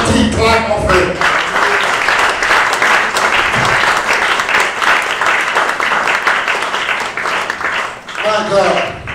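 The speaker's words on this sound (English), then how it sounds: "Give God a mighty clap of him" A church congregation at an evangelism, healing and miracles crusade claps loudly and steadily for about nine seconds, a dense, sustained roar of applause with voices shouting over it near the start and end.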